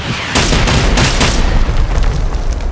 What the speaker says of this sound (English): try to throw a grenade at it